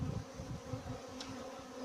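Luchkovska Carpathian honey bees buzz in a steady, low, droning hum that stays even and fairly faint throughout the short moment, with no voices.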